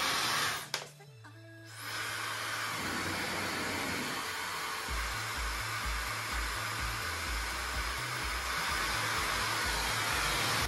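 A Laifen Swift Special hair dryer switches on and blows with a loud, steady whooshing roar of air, continuing alone after a short burst of rustling at the start.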